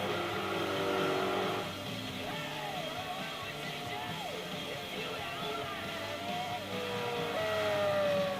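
Lister Storm V12 race car engine in Gran Turismo 4 revs and downshifts with quick gear changes, pitch sweeping up and down repeatedly, loud and continuous against a constant game backdrop.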